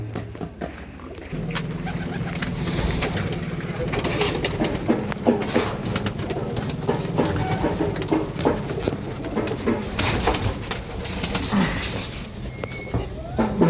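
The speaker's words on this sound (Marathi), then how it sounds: "जबरदस्त कबूतर आहे." Pigeons and their chicks in a loft coo steadily throughout, with soft wing flutters and handling noises nearby and a voice heard intermittently.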